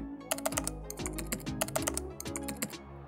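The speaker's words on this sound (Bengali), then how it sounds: "তো আমি এটা টাইপ করে দিচ্ছি।" Someone types a server URL on a computer keyboard, a quick, close clatter of uneven keystrokes with no talking.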